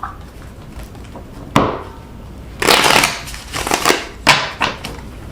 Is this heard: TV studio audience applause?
no